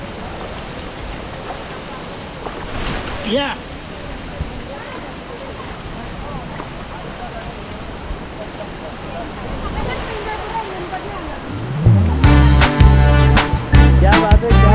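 Water rushing hard at a waterfall near Bhandardara, a steady loud roar filling the whole clip, with a brief voice and a burst of sharp clattering and rumbling toward the end.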